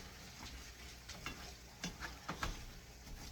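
Food sizzles steadily in a frying pan, with occasional scraping clicks from stirring, close up and with no talking.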